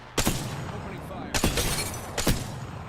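Three sharp sniper rifle shots crack out in Apex Legends, spaced roughly a second apart, each with a bright report and a short ringing tail over a steady game ambience.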